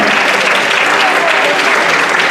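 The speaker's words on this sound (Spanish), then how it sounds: "un aplauso para Edu C3PO, que va a salir a continuación" Loud, dense applause from a crowd at a costume event, greeting a fan dressed as C-3PO, a close, sustained roar of clapping with no pauses.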